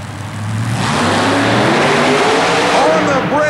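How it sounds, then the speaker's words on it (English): A supercharged small block Chevy mud racing machine at a 1991 super modified mud race in Worcester, Massachusetts roars loudly and continuously, its engine note climbing as it accelerates, with a commentator talking over it. "Here's the supercharged small block Chevy powered machine of the Sturken brothers out of Holland,"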